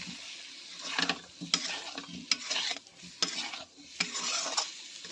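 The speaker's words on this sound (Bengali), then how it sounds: "এটা আমি কিছু সময় ধরে নাড়াচাড়া করে মশলাটা মেখে নেব" Peeled boiled potatoes are stirred into fried spice paste for aloo dum, making rhythmic bursts of scraping and soft sizzling, close and moderately loud, with short pauses between strokes.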